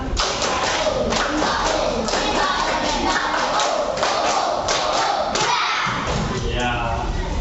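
Schoolchildren do a patterned clapping chant in a classroom, loud thumping claps and slaps on desks in a driving rhythm mixed with shouted group chanting, close and continuous.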